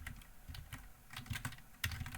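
Quick, irregular clicks of keys on a computer keyboard, close and fairly quiet, with a few sharper keystrokes standing out from the light tapping.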